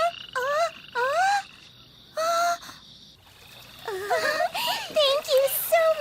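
A toad in an animated Thumbelina story gives a run of swooping, voice-like croaks, several separate calls followed by busier overlapping ones, fairly loud and close over a soft background.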